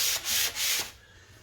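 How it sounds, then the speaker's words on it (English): Light hand sanding along the inside edges of a wooden frame: three quick, close rubbing strokes, loud and raspy, each about a quarter second, then the scraping fades to a quiet room. "I do my light sanding all the way on these inside edges"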